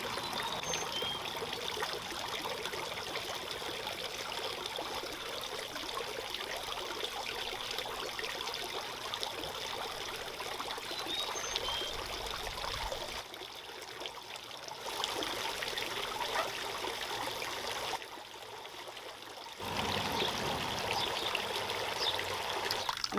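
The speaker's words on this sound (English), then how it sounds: "the water will level out and then it'll start to flow down." Water trickling and flowing down garden spouts, a steady close stream with a few brief drops in flow, alone without talk.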